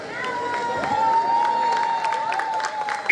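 Applause and cheering from the audience at a 2021 song contest final, a sustained crowd of clapping and shouts with a whistle-like tone running through it.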